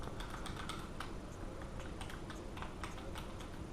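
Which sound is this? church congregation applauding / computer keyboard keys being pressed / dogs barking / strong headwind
computer keyboard keys being pressed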